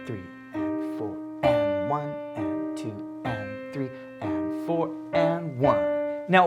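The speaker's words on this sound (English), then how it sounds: "when you play the hands together, it sounds like this" A piano montuno pattern is played with both hands together in a repeating syncopated rhythm of sustained chords, while a voice counts the beat aloud over it.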